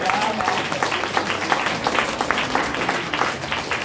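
A crowd claps in a sustained round of applause, individual claps audible within the steady patter, fairly close and lively.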